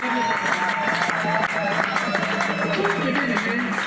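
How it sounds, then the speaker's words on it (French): Church congregation clapping for the Lord during a Pentecost worship service, a steady dense wash of many hands lasting throughout, with voices mixed in underneath. "applaudissez pour le Seigneur."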